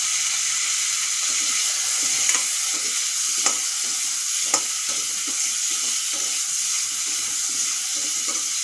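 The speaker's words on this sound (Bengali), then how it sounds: "একটুক্ষণ ভেজে নেব।" Raw mango pieces with salt and turmeric fry in a pan, giving a steady close sizzle with occasional soft stirring scrapes throughout.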